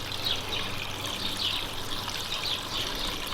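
A small backyard garden water feature trickles in a continuous gentle flow, with faint bird chirps in the background.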